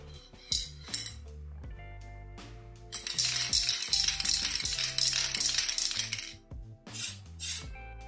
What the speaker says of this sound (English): I will first use a spray can.